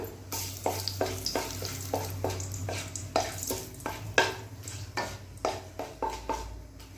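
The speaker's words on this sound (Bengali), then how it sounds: "কড়াইতে চারটে ছোট্ট ছোট তেজপাতা আমি একটু ছিঁড়ে নিলাম তেজপাতা দিলাম" Small torn bay leaves frying in a hot kadai, a soft continuous sizzle under a series of close, regular spoon scrapes and taps against the pan, fairly quiet, no voices.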